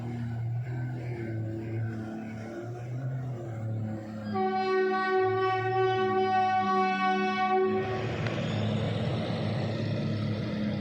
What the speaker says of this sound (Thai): ก็เห็นเหมือนรถไฟกำลังจะมานะพอดีได้ยินเสียงบูด